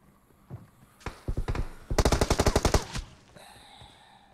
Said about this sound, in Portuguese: Alguém atirando na gente lá de longe, galera.